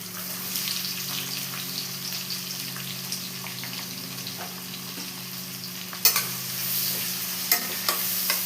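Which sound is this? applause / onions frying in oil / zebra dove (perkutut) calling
onions frying in oil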